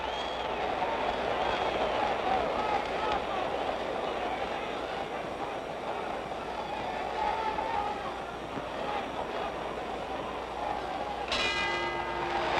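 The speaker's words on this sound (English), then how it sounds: "There's the bell ending round 11" The round-ending bell rings out late in round 11 of the Floyd Patterson vs George Chuvalo boxing match, a single ringing strike over a steady roar of the arena crowd.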